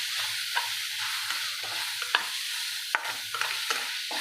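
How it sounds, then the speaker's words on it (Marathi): A flower vegetable dish with turmeric is stir-fried in a pan, producing a steady close sizzle broken by scattered scraping stirs and small clinks. "परतून घेऊया याला चांगलं."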